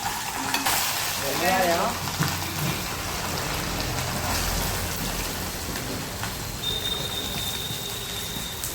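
Fish and a shrimp gravy base of onion, curry leaves and ginger-garlic paste frying in oil, a steady close sizzle with stirring clinks throughout, a brief spoken word early on.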